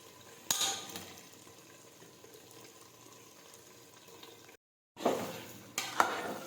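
Boiled vegetables for undhiyu are stirred in a pan with a ground masala of roasted chana and salted peanuts, giving soft scraping and faint sizzling with a few louder clatters and a brief gap.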